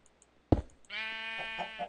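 A sheep in the video game Minecraft gives a single wavering bleat right after a short thump, clear and close, with no voices.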